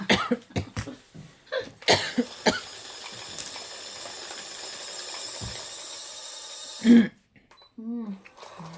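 Repeated harsh coughs burst out close by, several in a rough rhythm, followed by a sustained noisy stretch and a final cough.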